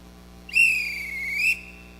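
A single sustained whistle blown as a call signal to summon people in a house, lasting about a second, loud and clear over a quiet room with a slight wavering pitch.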